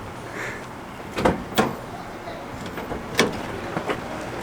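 Light doors on a rear-wheel-drive Honda Civic with a 2JZ engine swap, opened and shut in a few short knocks and clunks at close range, with faint background noise between them.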